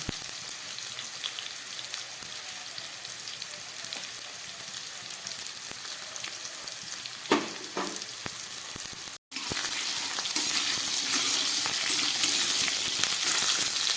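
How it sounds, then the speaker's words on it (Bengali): Potato, pumpkin and papaya chunks fry in a pan with a steady close sizzle, a few stirring scrapes breaking in midway before the crackle swells a little louder; no one speaks. "আলু কুমড়ো আর পেঁপেটা ভালো করে ভেজে নিলাম"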